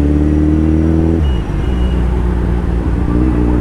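Heavy road traffic on Marcos Highway with many motorcycles, a loud close rumble of engines shifting pitch as vehicles pass, steady and continuous.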